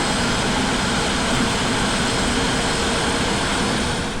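Airbus A320 jet engines in X-Plane rumble steadily and loudly as the airliner taxis at Dublin Airport, a continuous broadband roar holding level throughout with no voices.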